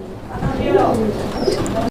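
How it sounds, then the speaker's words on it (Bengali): Fancy pigeons kept for sale cooing at close range, with low repeated coos and a few brief chirps over some background murmur. "এখানে চমৎকার আরও এক জোড়া কবুতরের কালেকশন রয়েছে"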